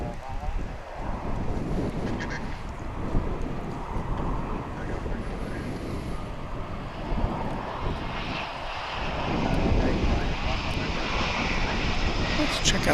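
A fixed-wing airliner comes in to land at DFW International Airport on a windy day, its engine roar loud and sustained, mixed with wind buffeting the microphone and a voice talking over it.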